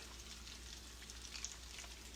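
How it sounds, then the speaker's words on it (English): Bourbon glaze poured into a hot pan with grilled salmon sizzles and crackles softly and steadily, with a few brighter pops near the end. "Ooh, y'all hear it sizzling? Once that sauce hit that pan, everybody starts singing."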